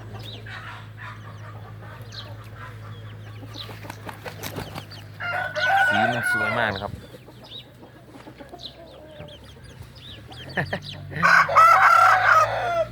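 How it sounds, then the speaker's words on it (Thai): Bantam chickens cluck nearby, with two loud crows rising over the flock; someone talks quietly in between. "เลี้ยงไก่ตีนะครับ แต่ว่าได้ไก่แจ้นะครับ"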